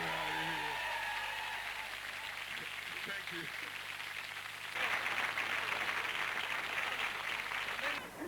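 Crowd applause and cheering after a rap performance at an MC competition, a steady wash of noise that swells louder midway and continues, with a voice speaking briefly over it.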